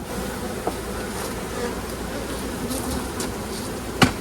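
Honey bees buzz steadily around packed beehives as frames fill with honey, a dense, continuous hum close by with faint clicks and a brief knock near the end.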